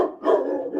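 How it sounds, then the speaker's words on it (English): A large 145-pound dog lets out one loud, drawn-out bark that rises and lingers, close and alone, with no talk over it. "145-pound monster of a dog, buddy"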